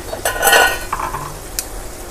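Crispy boneless catfish frying in a hot wok with fresh chilies and kaffir lime leaves while being stirred, with bursts of sizzling and the scrape and clink of a metal utensil against the pan, close and fairly loud.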